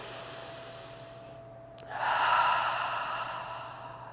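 A deep, audible breath during yoga practice comes after a quiet pause, swelling into a long exhale that fades slowly.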